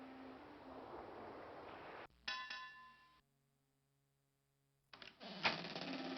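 A bell in the DOS game King's Quest V, played on real 486 hardware, gives a few quick metallic clangs with synthesized ringing tones, then falls silent before other game noise returns.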